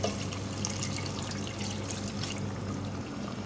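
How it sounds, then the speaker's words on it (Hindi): Beef stock, the broth from boiling beef, poured into a pot of potatoes for degi aloo gosht, a steady close liquid splash and trickle lasting a few seconds with no talk. "ये मेरे पास बीफ की यखनी है जिसमें मैंने बीफ बॉयल किया था, यही डालूँगी इसमें"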